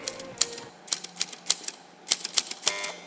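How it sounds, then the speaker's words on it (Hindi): Crisp, rapid clacks of typewriter keys strike in irregular bursts, with a few louder key hits and a brief carriage-like ring near the end, close up and alone in a quiz-show setting. "टाइपराइटर की आवाज थी।"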